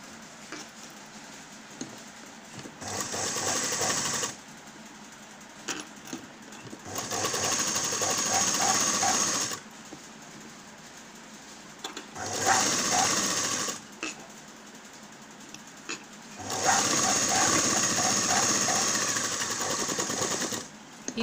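A sewing machine stitches the sleeve of a ready-made dress in repeated bursts of fast, steady whirring a few seconds long, separated by pauses. A voice talks quietly in some of the gaps.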